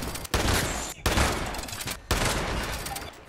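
Bursts of automatic gunfire in Fallout 76, loud and close, coming in three sustained volleys separated by brief pauses.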